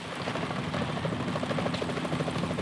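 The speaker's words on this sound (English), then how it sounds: "Is that a chopper I just heard?" A helicopter approaches in the video game Metal Gear Solid 2, its rotor thumping in a fast, steady pulse under a broad engine roar, with no talking.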